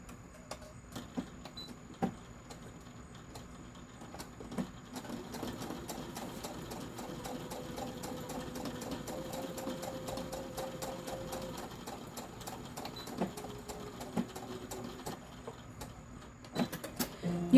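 A sewing machine stitches bag seams in a quiet room, a soft continuous whir with faint ticking and a few sharp clicks, fairly close and alone without voices.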